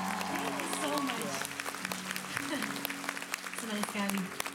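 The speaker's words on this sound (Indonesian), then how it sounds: "Saya mau tepuk tangan buat Kuala Lumpur, buat Malaysia" A concert audience in Kuala Lumpur claps and cheers in scattered bursts while someone speaks over a microphone, the applause rising and falling beneath her voice.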